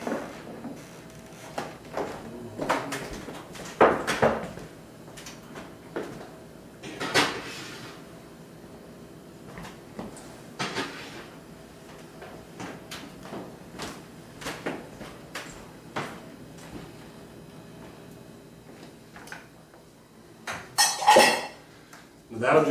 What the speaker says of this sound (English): All right, now we're just ready to stick it in the oven